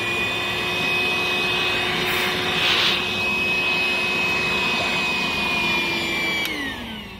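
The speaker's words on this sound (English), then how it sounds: "So we just walk around, vacuum them up" A vacuum sucking up leaf-footed bugs among dragon fruit plants outdoors: a steady whining motor drone with a high tonal whistle, a brief louder rush partway through, and the pitch dropping as it winds down near the end.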